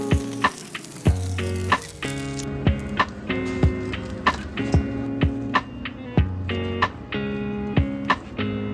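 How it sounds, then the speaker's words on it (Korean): Dumpling wrappers deep-fry for tteokbokki, giving loud, close crackling with sharp repeated pops and bursts of bubbling at a fairly regular pace, with no voices. "만두피를 튀겨서 준비합니다."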